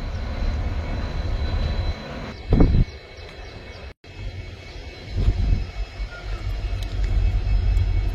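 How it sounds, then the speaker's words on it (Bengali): A train on the final leg of a Howrah to Bangalore journey rumbles steadily along the rails, with heavier surges of clatter and a brief break in the sound midway; no one speaks. "ট্রেনের জার্নি।"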